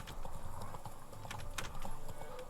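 Hooves of the horse Roach clip-clop at a gallop in The Witcher 3, a rapid steady drumming close up over a faint game background, with no talk.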